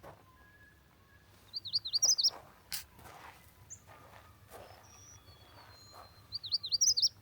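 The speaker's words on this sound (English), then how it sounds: "Typical magnolia warbler." A magnolia warbler sings two short, bright, warbling phrases several seconds apart, moderately near, while faint rustles and footsteps on a woodland birding trail fill the quiet gaps.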